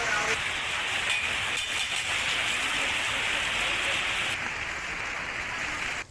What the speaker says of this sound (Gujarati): ભારે વરસાદના કારણે થોડા સમયમાં જ રસ્તાઓ પાણી થયા હતા